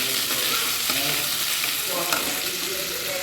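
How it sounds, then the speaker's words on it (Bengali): Chopped ginger frying in hot oil in a pan, a steady close sizzle with occasional stirring scrapes and no talk. "দেখুন আদাটা ভালো করে তেলে ভেজে নিচ্ছি।"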